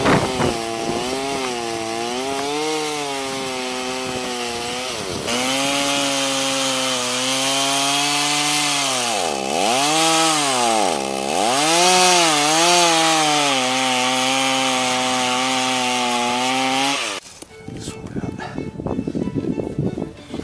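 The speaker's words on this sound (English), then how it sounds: "then I took the chainsaw and dug in as deep as I could go to start hollowing out" Chainsaw digging into a wooden log to hollow out a canoe, loud and close, its pitch dipping and rising as the blade bites and frees, running steadily before cutting off near the end.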